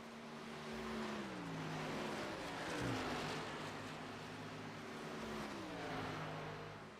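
Race car engines at Indianapolis roar and rise and fall in pitch as cars pass and accelerate, with a car twitching sideways off turn 4, steady and moderately distant with no talk.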